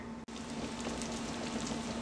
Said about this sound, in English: this is the second time that I'm boiling it with the salt